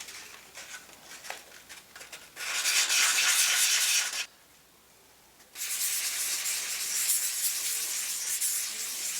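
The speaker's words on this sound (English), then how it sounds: "move up to some 220 grit sandpaper to smooth out the finish." Sandpaper of 220 grit rubs over a PVC pipe in close, steady scratchy passes, with two long continuous stretches of sanding separated by a brief pause.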